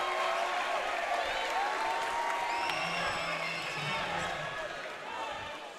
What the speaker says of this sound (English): you can hear the crowd respond with every single point.